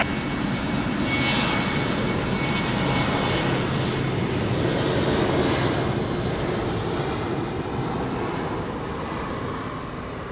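Airliner engines roar steadily on the runway at Lisbon Airport, a loud, continuous broadband rumble that holds through the whole stretch and eases slightly at the end, with no voices.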